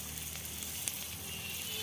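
Panch phoron, bay leaf and dried red chillies frying in oil for a bottle gourd curry, a steady soft sizzle close by with no talking, lasting under two seconds.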